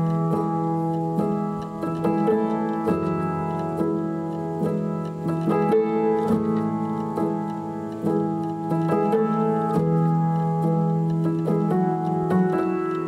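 Real acoustic piano part from a song, heard alone: steady chords and melodic notes played continuously at an even, moderate level with no voices.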